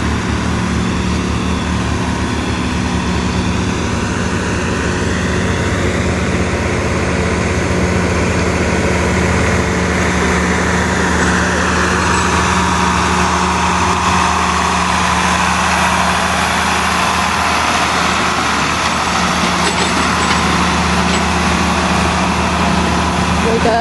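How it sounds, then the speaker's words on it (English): A tractor pushing mud off a rain-soaked dirt track at an antique tractor pull in Oklahoma, giving a loud, continuous, steady engine drone with shifting pitch, while someone talks nearby. "Got us a tractor pushing us mud"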